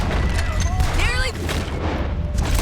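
Distant booming gunfire in Red Dead Redemption 2 during a shootout, heavy low rumbles under shouted voices and a strained, rising cry, with no clearly separated individual shots.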